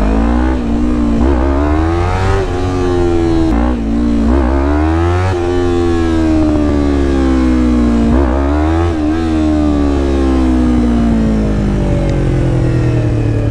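A Yamaha R3 motorcycle engine revs hard and repeatedly during wheelie attempts, loud and close, its pitch climbing through each throttle burst and dropping between shifts and blips.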